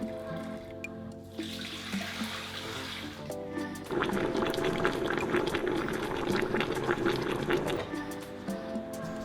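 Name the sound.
tonkotsu ramen broth boiling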